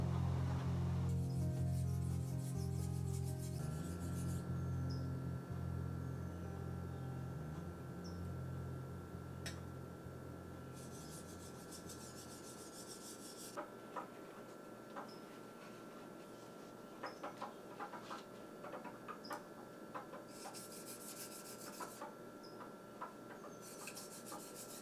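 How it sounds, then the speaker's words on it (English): Spyderco Ultra Fine stone rubbing along a beaten-up stainless chrome-molybdenum Sugimoto CM2524 kitchen knife, a close, steady rasping scrape that runs continuously at first, then turns lighter and broken by small clicks. "I will clean up the bar with Spyderco Ultra Fine"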